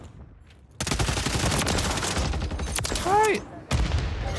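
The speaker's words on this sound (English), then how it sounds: "I can just shoot people at will" A SOA Subverter battle rifle fires in a video game shooter match, with dense bursts of rapid gunshots crowding together and a brief gap before the shooting resumes. A voice calls out once.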